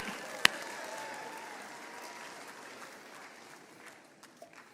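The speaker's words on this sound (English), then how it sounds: "Y'all give her a round of applause." Applause from a banquet crowd at a buck hunting banquet gives a steady, moderately distant wash of clapping, opening with one sharp nearby clap and then holding evenly before thinning toward the end.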